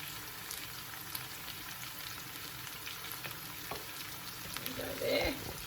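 Confit garlic sizzles steadily in a pan for a pork and fennel Sicilian stew with sausages, a soft constant crackle with a brief louder scrape near the end.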